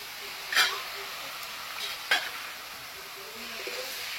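Ground spice paste sautéing in a pan, a low steady sizzle broken by a couple of brief spatula scrapes.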